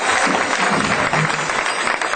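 Audience applause following a kirtan at a spiritual class gathering: a steady, dense wash of clapping hands that carries on without a break.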